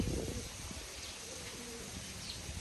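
Racing pigeons returning from a 280 km race, soft cooing and faint chirps over a low outdoor background rumble, quiet and somewhat distant.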